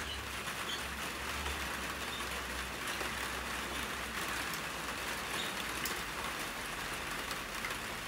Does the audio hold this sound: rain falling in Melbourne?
yes